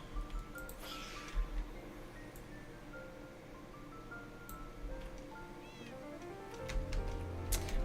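Two pet cats in Minecraft meow several times over steady background music, the calls short and fairly close, standing out against an otherwise calm soundtrack.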